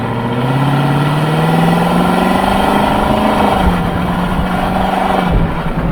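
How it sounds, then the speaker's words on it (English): Loud, close exhaust drone from a 2021 Lexus LC 500 convertible with a 5-liter V8, running steadily at low revs with a deep, even rumble whose pitch rises gently midway before settling back. "I still love the sound of the exhaust."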